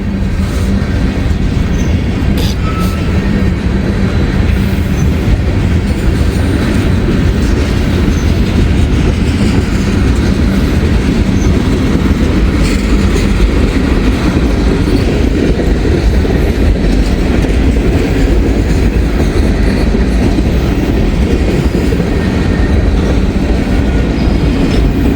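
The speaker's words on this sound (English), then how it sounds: "This train will not have a DPU. It is rather short. It is a 1 locomotive wonder." A short freight train pulled by a single locomotive rolls past close by, a loud continuous rumble of wagons with rhythmic wheel clatter throughout.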